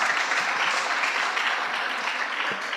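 Dense, steady applause from an audience at a high school debate between Loreto Limuru and Kagumo, greeting the announced result and filling the whole stretch at an even level without a break.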